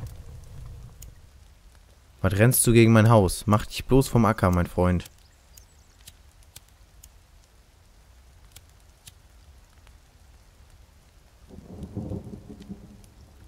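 Steady rain with low thunder rumbling in the forest of the video game The Forest, soft and continuous, while someone talks loudly over it for a few seconds and again near the end.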